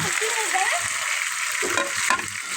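Meat marinated with ginger-garlic paste, dry chili powder, salt and biryani spice hits a hot pot for biryani, frying with a steady loud sizzle and crackle and brief stirring scrapes.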